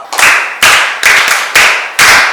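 A classroom of students claps for a classmate in five short, loud bursts at roughly half-second intervals, each sharp onset fading before the next, with no talking.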